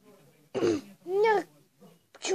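A person coughs and clears their throat in a few short, close, raspy bursts with brief pauses between them.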